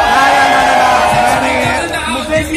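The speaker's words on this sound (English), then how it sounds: "smokers in the house, give me a cheer" An indoor crowd at a social media fan event yells and cheers loudly on cue, a dense burst of overlapping voices that fades out after a couple of seconds.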